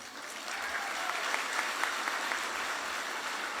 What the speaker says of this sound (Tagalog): Pumapalakpak kayo